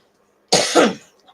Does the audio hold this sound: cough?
yes